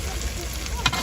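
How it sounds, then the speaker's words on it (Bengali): Chicken and potatoes fry in a pan in a village kitchen, giving a steady, dense sizzle throughout with a brief louder crackle near the end. "এখন আলুগুলো দিয়ে দিচ্ছি, এখন আলুগুলো কষায় যাবে, কষায় নিতে হবে ভালোভাবে"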